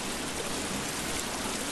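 Loud, steady rush of flowing water in the video game The Forest, a dense continuous wash with no breaks or talk.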